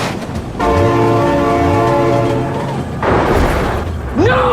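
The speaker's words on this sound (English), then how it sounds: "Oh my god, train!" A train horn blares with strong steady harmonic tones while a train rumbles past in the BeamNG driving game, loud and close, followed by a burst of rushing noise and a second horn blast near the end.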